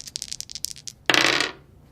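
Dice rattle in a hand during an Axis & Allies game, a quick series of clicks followed by a bright clattering tumble across a board that fades out; no talk.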